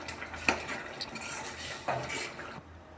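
Egg curry in a cooking pot is stirred with a utensil, giving several scraping clinks against the metal pot and a soft bubbling simmer underneath, close and moderately quiet, with no talking.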